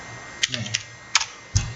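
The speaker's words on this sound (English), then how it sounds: "Suppose somebody is typing here without knowledge, he is typing, try to type in" Someone typing on a computer keyboard: several sharp, separate key taps at an uneven pace, close and fairly clear above a quiet hiss.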